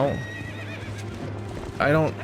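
Horse whinnying in The Legend of Zelda: Twilight Princess HD, with a short neigh at the start and a louder one near the end, hoof clip-clop and game sounds running steadily beneath and a voice talking over parts of it.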